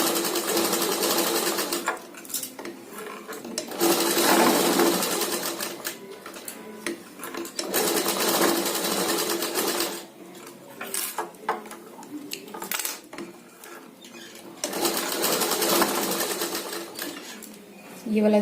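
Sewing machine stitching a fabric tassel in short, repeated bursts of rapid mechanical whirring separated by pauses, with a voice talking in between runs.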